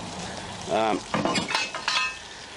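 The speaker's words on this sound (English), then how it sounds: "I've just thrown one piece in there and it's sizzling away quite nicely" Sizzling of chicken pieces frying in a hot camp oven, with stirring and a few metallic scrapes over the crackle.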